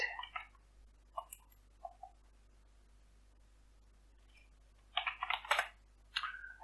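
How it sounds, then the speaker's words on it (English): Short bursts of key clicks on a computer keyboard, a few isolated taps followed by a quicker cluster of keystrokes, quiet and close in an otherwise silent room. "in the search box type disk management"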